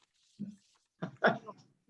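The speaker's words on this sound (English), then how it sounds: "They're barking at the computer." A couple of short dog barks, a small yelp then a louder burst, fairly close in a quiet room with faint voices around.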